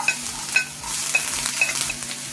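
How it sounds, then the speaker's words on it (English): Ginger, garlic and curry leaves sizzling in hot oil in a pan, a constant frying hiss with a few sharp stirring clinks and scrapes over it, close and alone. "When the oil heats up, we'll add the ginger, garlic and curry leaves."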